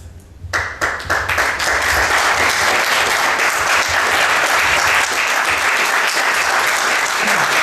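A large audience at a political talk bursts into sustained applause, dense steady clapping that starts abruptly and holds at full strength throughout.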